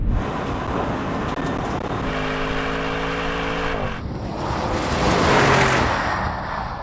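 A Tesla Cyberbeast accelerates hard in a drag race against an Audi RSQ8, with a loud rising electric whine and road roar that peaks and then fades into rushing wind; no talking.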